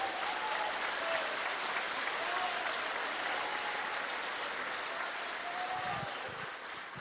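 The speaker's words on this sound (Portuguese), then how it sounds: "Aplauda Ele." Church congregation applauding during a sermon, a steady wash of clapping that holds for the full stretch and fades slightly toward the end, with faint voices calling out beneath it.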